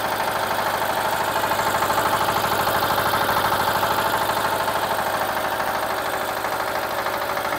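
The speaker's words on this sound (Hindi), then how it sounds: "जनरेटर जो सा रहेगा हैंडल स्टार्ट है, इसकी भी ऑयल कंजप्शन जो सी रहेगी 1 घंटे में 1 लीटर रहेगी पूरे लोड पर" A hand-start Chadha diesel generator runs up close with a steady, loud, rhythmic chugging and a dense mechanical drone that holds even throughout, with no voices.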